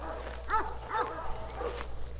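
A dog gives two sharp barks close by, then a fainter yelp, over a low background hum.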